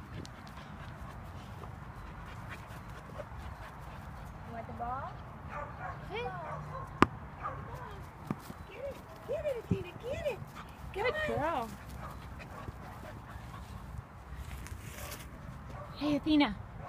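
A 4-month-old Catahoula mix puppy gives short yips, whimpers and small barks that come and go at moderate volume. They are mixed with steady background noise and partly sit under nearby speech.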